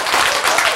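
A short, loud burst of dense congregational clapping during a church sermon, continuous and close-sounding with no voices over it.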